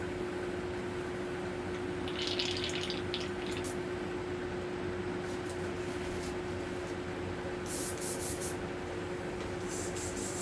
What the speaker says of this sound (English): clean out the airbrush quick